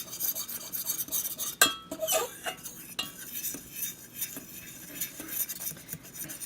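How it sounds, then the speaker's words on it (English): Hot sauce being mixed in a pot off the heat, a utensil scraping and clinking against the metal in an uneven rhythm of strokes, close and fairly quiet. "Keep mixing so it doesn't scorch."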